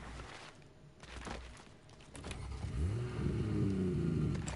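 A car engine revving up in the Fortnite video game, a rising, building motor roar that swells over the last couple of seconds.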